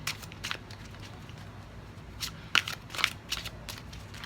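Tarot cards are shuffled close up in short papery riffles and flicks, a soft burst near the start and sharper bursts toward the end, with no talking.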